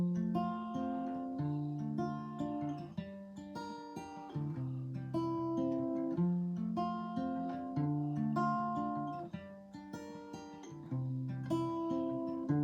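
Acoustic guitar fingerpicking the chorus chords of Morgan Wallen's "Somebody's Problem", steady plucked notes ringing through a relaxed, even rhythm, moderately quiet and close.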